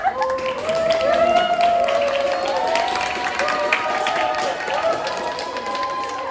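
An audience at a university theatre performance claps and cheers for two athletes, a lively mix of clapping and raised voices sustained through the whole stretch.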